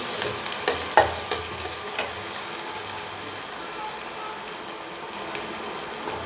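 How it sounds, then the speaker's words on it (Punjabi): Onions fry in hot oil with a steady hiss, and a few knocks of stirring come early before the sizzle settles into an even wash. "ਤੁਸੀਂ ਇਹਨੂੰ ਉਦੋਂ ਤੱਕ ਚਲਾਉਣਾ ਜਦੋਂ ਤੱਕ ਜੋ ਪਿਆਜ਼ ਨੇ ਉਹ ਬਰਾਊਨ ਨਾ ਦਿਖਣ ਲੱਗੇ"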